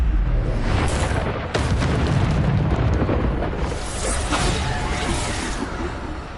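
Bombarda spell blasts from the video game Hogwarts Legacy, a dense, continuous roar of explosive booms and whooshing bursts, loud and close, with a sharp new blast near the middle and the noise slowly thinning toward the end.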